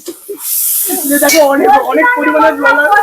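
A spice paste for mutton curry roasts and sizzles in a hot pan, a brief hissing burst followed by a steadier frying sound, with a voice talking loudly over much of it.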